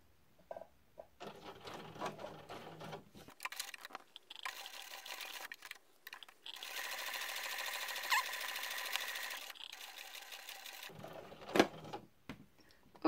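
A sewing machine stitches lining with black thread in both bobbin and needle, a steady fast whirring run of stitches close by, starting and stopping in short bursts with one longer continuous stretch in the middle.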